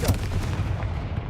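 Spell explosions in Hogwarts Legacy burst in a quick cluster of sharp, booming blasts, fairly faint and rapid, over a short moment.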